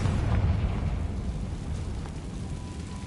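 A Confringo explosion spell from Hogwarts Legacy, a deep rumbling blast that swells loudly at the start and then rolls on as a sustained low boom for a few seconds.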